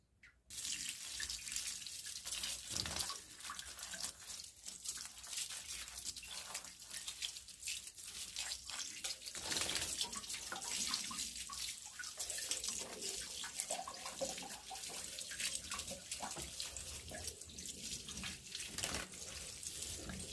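Water runs steadily from a tap for the whole stretch while cats are bathed, splashing and trickling into a basin with occasional sharper splashes, close by and fairly loud.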